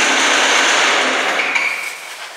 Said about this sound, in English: Bandsaw, listen to this.